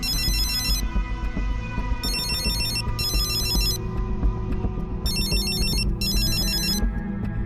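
A telephone rings indoors in repeated electronic bursts, a pair of rings, a pause, then another pair, over a steady low background drone with no talk.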